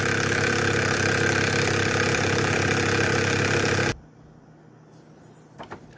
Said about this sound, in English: So this is the circuit. It's running the Newman motor